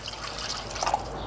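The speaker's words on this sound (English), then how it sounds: "I'm gonna add a little bit of bone broth to that too." Bone broth poured into a puppy's homemade dog food, a soft brief trickle and drip of liquid, close and quiet, lasting about a second.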